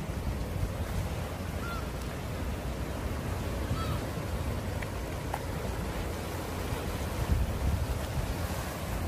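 Ocean waves at Jangho beach along a coastal walking trail, a steady broad wash of surf with wind buffeting the microphone, continuous and fairly close, no talk.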